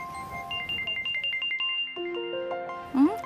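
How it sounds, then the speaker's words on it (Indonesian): A phone ringtone plays an incoming-call melody of repeated short electronic tones, changing pitch partway through and ending with a brief rising sound. "Siapa tuh yang telepon mengganggu wae?"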